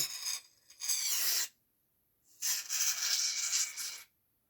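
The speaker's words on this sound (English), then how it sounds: "actually spray some inside" Foamy lubricant sprayed inside an RC car axle, heard as two close hissing aerosol bursts, the first short and broken, the second longer and steady, with a pause between.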